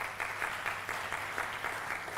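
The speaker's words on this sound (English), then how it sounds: "I think it deserves a round of applause." A short burst of steady clapping from a crowd at a Lagos State University event, even and continuous, fairly close.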